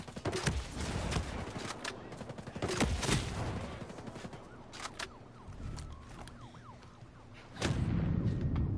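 Shotgun blasts in Ghost Recon Breakpoint video game, several sharp loud booms spaced irregularly amid background gunfire and game noise.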